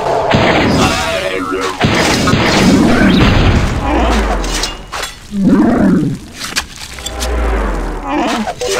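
A cannon is destroyed in the Star Wars Galactic Battlegrounds video game, with loud booming explosions and crashing battle effects piled densely together. Someone talks over the din.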